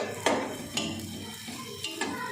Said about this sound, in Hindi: आपने साथ साथ चम्मच चलाते ही रहना है